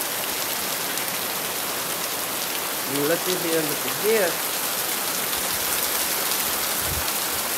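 Steady rain pours outside near a greenhouse and garden porch, a dense even hiss that continues throughout while a person briefly speaks over it.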